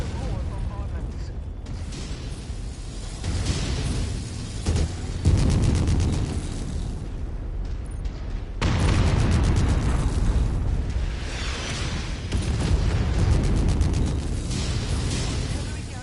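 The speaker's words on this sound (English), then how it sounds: "Artillery garrison destroyed." Artillery garrison blowing apart in MechWarrior 5: Mercenaries, a long roaring run of explosions and crackling debris over continuous heavy rumble, with a voice speaking over it.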